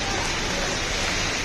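Heavy rain pours down outdoors as a steady, dense, close hiss that fills the whole clip evenly, with no pauses or distinct drops standing out.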